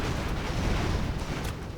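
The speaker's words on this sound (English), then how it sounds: "there's so much explosion on them, in and around them" Explosions from aerial charges in the airship battle game Airships: Conquer the Skies, a continuous rumbling barrage of booms and blasts, loud and dense with no talking.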